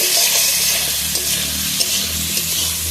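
Potatoes and tomatoes fry with spices in a pan for a Bengali fish-and-brinjal curry, giving a steady close sizzle with faint scraping, alone without talk.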